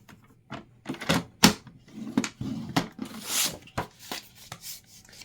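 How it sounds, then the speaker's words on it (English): Paper trimmer cutting and scoring a sheet of cardstock, giving a series of sharp scraping strokes and clicks at close range, with some slides and short rasps between them and no voices. "go ahead and cut it and score it at 5 1/2"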